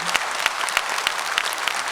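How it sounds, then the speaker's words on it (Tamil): An audience at a special speech event in Tamil Nadu applauds steadily, with dense clapping and a few sharper claps standing out. "ஒரு மிக மிகப்பெரிய கைத்தட்டல்"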